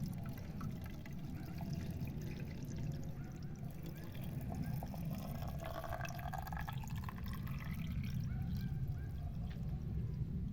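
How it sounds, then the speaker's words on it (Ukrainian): Cold water pours into a glass jar of salted tomatoes, a close, steady gurgling stream whose tone rises as the jar fills, with no talking. "Ну і тоді доверху я наливаю холодною водою."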